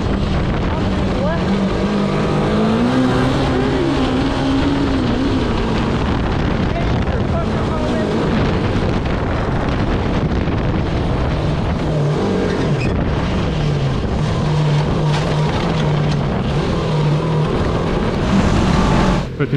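A 750cc cross kart engine screams at high speed with a loud, continuous buzzing roar whose pitch rises and falls through gear changes and throttle lifts, under heavy wind noise on the microphone.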